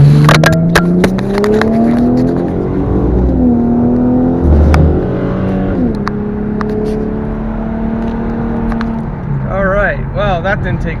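A 2008 Ford Mustang with a full exhaust accelerates onto a highway, its engine note rising and shifting through steady, loud revs from inside the car, with a brief voice near the end.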